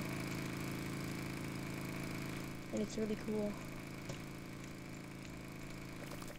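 A steady mid-pitched motorcycle engine hum from a video game drones throughout, with a person briefly speaking over it partway through.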